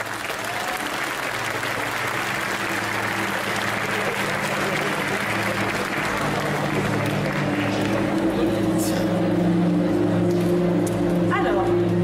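An indoor festival audience gives sustained, dense applause for a cosplayer at a cosplay contest, steady and loud throughout, with a steady hum and some voices underneath.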